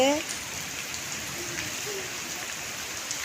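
Heavy rain falls in Bangalore as a dense, even hiss of drops on surfaces, steady throughout the few seconds, with a faint brief whistle-like tone at the very start.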